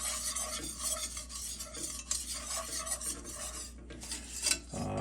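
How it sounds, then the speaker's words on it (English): Food being stirred in a cooking pan, a utensil scraping and clinking steadily against the metal with a faint sizzle underneath, continuous and close for the whole stretch. "I prefer to keep moving it. This way it does not get stuck to the bottom of the pan, will not burn."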